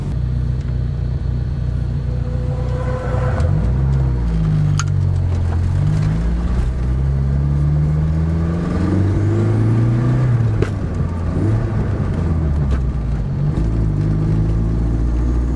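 Car with a 2.2 turbo engine driving on the road, engine droning close and loud as it accelerates through rising revs with gear changes, a steady rumble throughout.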